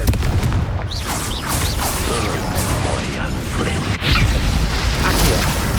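A Confringo spell blast in Hogwarts Legacy lands as dense, booming magical impacts and whooshes, loud and continuous, with a sharp hit near the middle of the duel.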